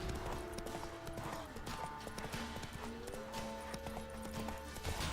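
Horse hooves clip-clop steadily at a trot in The Witcher 3, with an occasional whinny, behind game music and faint voices.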